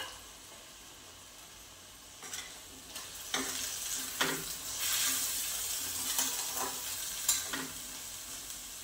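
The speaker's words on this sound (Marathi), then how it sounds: "आता हे सर्व एकत्र मिक्स करून घ्यायचे।" A spatula stirs spinach, fried peas and potato in a hot pan, bringing up a soft sizzle with scraping strokes and clacks against the metal, quiet at first and then busier.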